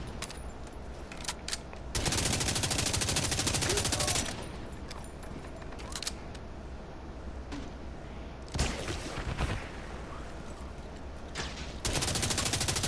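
Bursts of rapid automatic gunfire from an assault turret in the video game Division 2 come in several dense volleys separated by quieter stretches of background game noise.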